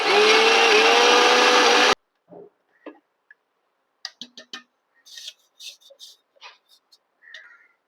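Sugar ground to powder in a kitchen mixer jar, a loud, steady, high-pitched whirring motor for about two seconds that stops abruptly, followed by faint clicks and light taps.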